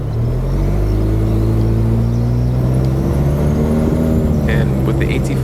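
A GMC Canyon AT4X pickup truck engine rumbles steadily, with a rising whine building as the turbo spools up over a few seconds at light throttle.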